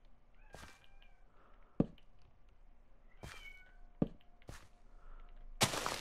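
Several cats meow in separate bursts, with sharp knocks and thumps between them and a louder scrabbling noise near the end, all fairly close with no talking.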